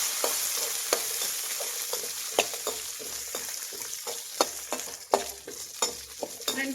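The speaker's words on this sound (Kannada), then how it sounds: "ಈಗ ಕುಟ್ಟಿರೋಂಥ ಒಂದು ಅರ್ಧ ಗೆಡ್ಡೆ ಬೆಳ್ಳುಳ್ಳಿ ಹಾಕ್ತಾ ಇದ್ದೀನಿ. ಒಂದು ಗರಿ ಕರಿಬೇವು, ಸಾಂಬಾರು ಈರುಳ್ಳಿ ಹಾಕ್ತಾ ಇದ್ದೀನಿ. ಇದನ್ನು ಫ್ರೈ ಮಾಡಿ." Crushed garlic, curry leaves and sambar onions fry in hot oil for drumstick sambar, a steady close sizzle broken by frequent scraping stirs and clinks.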